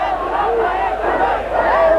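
A crowd of people in revolt in Romania in December 1989 shouts and chants together, a dense, loud mass of voices with rising and falling cries, heard alone.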